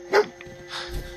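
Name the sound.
dog barking in video game Fallout 4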